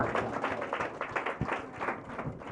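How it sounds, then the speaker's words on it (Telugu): A congregation at an Elohim Healing Ministries church service claps loudly in praise, a dense, continuous patter of many hands filling the room without a break. "వీరి కోసం గట్టిగా చప్పట్లు కొట్టి దేవుడి మహిమపరుద్దాం"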